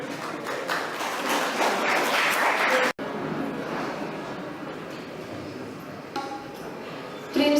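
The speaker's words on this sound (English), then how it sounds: "So a big applause for her, please." An audience applauds a bhajan singer at an ISKCON Padayatra gathering in Saint Pierre, Mauritius, with dense, moderately loud clapping that cuts off abruptly, then lighter scattered claps and background noise continue.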